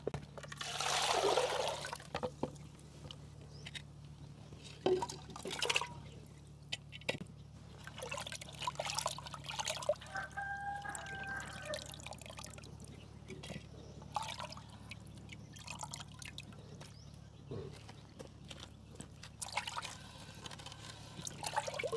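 Water splashing and trickling as fish is rinsed, with intermittent sloshes and drips over a low background hum.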